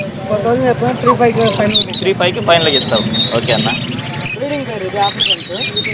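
Lovebirds chirp and tweet busily in the background at a Sunday poultry market in Nellore while people talk over them at close range.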